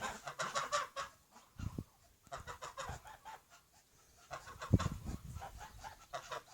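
Geese and ducks on a farm honk and cluck in scattered bursts, fairly close and moderately loud, with brief pauses between calls.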